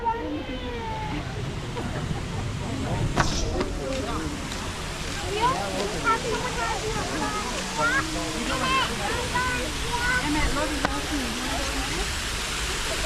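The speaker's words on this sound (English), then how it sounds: "So guys, this is the waterfall." A waterfall at Katoomba gives a constant broad rushing roar that fills the whole stretch, with a crowd's indistinct voices and chatter mixed over the falling water.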